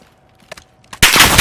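Gunfire in the Warzone video game: after a few faint ticks and clicks, a loud, dense burst of automatic shots erupts abruptly and continues to the end.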